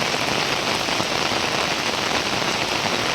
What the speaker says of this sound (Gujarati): બહુ જ જબરજસ્ત વરસાદ અમારે અહીંયા પડી રહ્યો છે